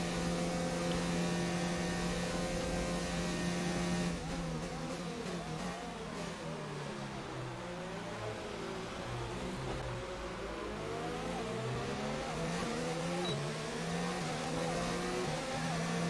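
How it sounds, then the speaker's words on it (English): F1 race car in a racing video game with DRS open, a loud continuous engine whine whose pitch rises and falls through gear shifts and acceleration, without talk. "Listen to that DRS."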